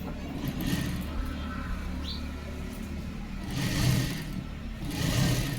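Sewing machine stitching a yoga belt onto a blouse over its lining, a steady mechanical whir that swells in two longer runs near the end.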